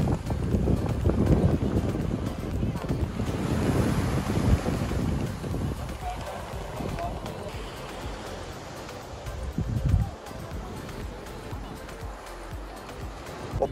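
A beach at a Dalaman, Sarıgerme hotel resort on a hot sunny day, heavy wind buffeting the microphone with rolling surf and waves beneath, loud at first then easing, with a brief gust near the end.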